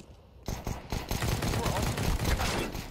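Galil rifle fire in a Counter-Strike style match on the Mirage map, a dense run of rapid shots starting abruptly and continuing steadily, loud and close, with a voice talking over it.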